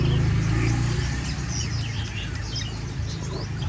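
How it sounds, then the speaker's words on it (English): Exotic birds kept in a Saigon alley give faint, scattered chirps above a loud, steady low rumble of street noise. "Oh, these are exotic birds right here."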